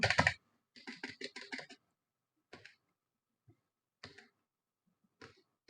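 A computer keyboard is typed on in short bursts while writing CSS code, with a quick run of close, crisp keystrokes followed by sparse single clicks and pauses.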